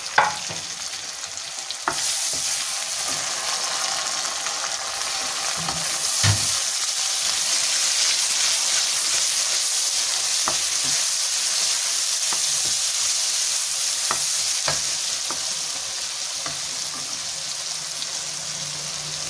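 Masala with tomato, green chillies and salt frying in a pan for a potato and eggplant dish, a loud steady sizzle with periodic scrapes and clinks of a stirring spoon, no talking.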